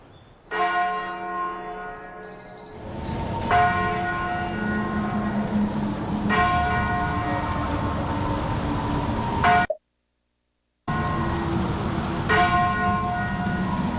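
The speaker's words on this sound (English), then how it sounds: "church bells were rung in the darkness to comfort the souls in their suffering" Church bells toll slowly, one strike every few seconds, each ringing out and fading under a steady background hum, with a brief silent dropout.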